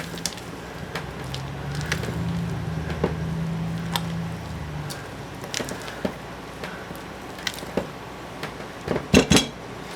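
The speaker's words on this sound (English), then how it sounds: "We'll stir those in" Spoon stirring ingredients into strawberry bundt cake batter in a bowl, a low scraping swish followed by scattered sharp clinks and taps of utensil against the dish, loudest in a quick cluster near the end.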